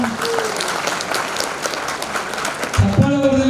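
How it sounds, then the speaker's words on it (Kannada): A crowd of employees claps loudly and continuously after state president Shadakshari's long speech, a dense, steady patter that carries on until a voice begins speaking over it near the end. "ಹೊಡೀರಿ ಜೋರಾಗಿ ಚಪ್ಪಾಳೆನ"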